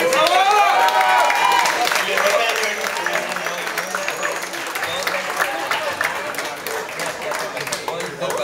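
Dense applause and cheering from a concert crowd at Opera 29 during a show, loud and sustained, with voices and shouts mixed through it and the clapping easing slightly after the first couple of seconds.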